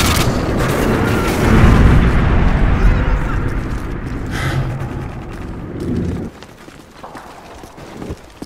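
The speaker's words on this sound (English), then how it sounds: "friendly Predator missile inbound." A Predator missile strike in Call of Duty Modern Warfare 2 lands as a loud, sustained explosive rumble with crackling debris, then drops off sharply near the end.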